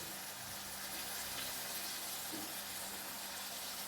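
A pot of stew with pepper simmers steadily, giving a soft, continuous bubbling hiss with a faint low hum underneath, even in level and fairly quiet throughout with no talking.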